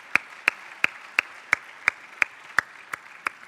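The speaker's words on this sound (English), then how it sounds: "a round of applause" Clapping at a developer conference talk, with ten sharp, evenly spaced claps in a slow, steady rhythm. Each clap is crisp and distinct against a quiet room.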